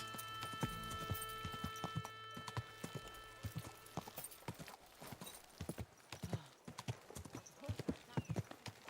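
Horse hooves clip-clop in Kingdom Come: Deliverance II, a steady rhythm of fairly close, distinct hoof strikes over a faint ambient backdrop, with a horse whinnying early on.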